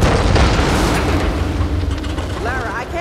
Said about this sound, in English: But we need a bigger explosion